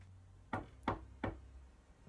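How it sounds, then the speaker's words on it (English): Three firm knocks on a front door, evenly spaced and fairly close, with a faint low hum underneath. "At that moment, there came a knock at the front door."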